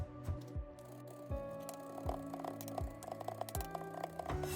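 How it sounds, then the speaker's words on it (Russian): A knife finely dices red onion on a board, a series of dull, evenly spaced chopping taps over a low background hum. "И нарезаем на мелкий вот такой вот кубичек."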